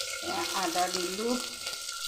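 Ginger hits a hot pan in a Handi-style cooking setup, giving a steady bright sizzle throughout with a faint tonal hum underneath.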